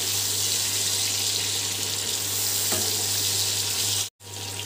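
Green mango pieces frying lightly in a pan make a continuous dense hiss of sizzling oil, close and steady with a faint low hum beneath, broken by a brief sharp cut near the end.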